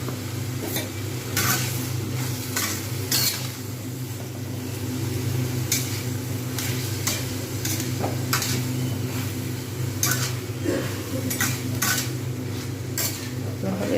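Ridge gourd and potatoes fry in a pan with salt and turmeric, stirred steadily with a utensil that scrapes and clinks against the metal every second or so over a low, constant sizzle.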